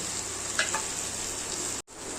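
Onion and coriander leaves frying in a pan for a vegetarian dal tadka, a steady close sizzle with a few brief stirring clinks, broken by a short cut near the end.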